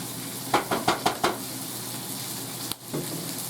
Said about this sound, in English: Do it a quick little stir.